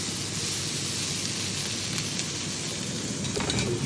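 Onion and peppers frying in a pan while cooking rasta pasta, giving a steady, close hiss and crackle of sizzling oil that holds at an even level throughout, with no talking.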